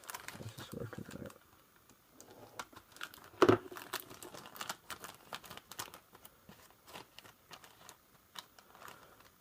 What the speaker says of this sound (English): I'm going to just cut open the bag a wee bit.